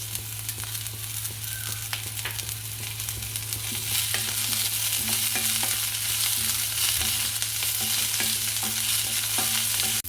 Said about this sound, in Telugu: కరివేపాకు కూడా ఫ్రై అయింది కొద్దిగా. ఇప్పుడు పుదీనా వేసుకుంటాను.